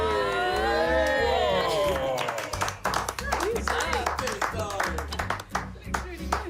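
Applause and cheering in a busy food setting break out over a bed of music and voices, scattered claps building into a lively burst mixed with chatter.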